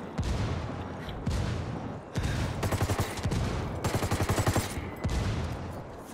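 Gunfire in the tactical shooter Ghost Recon Wildlands: rapid automatic bursts and scattered single shots crackle through a firefight, with loud rhythmic volleys around the middle and later, under a constant layer of battle noise.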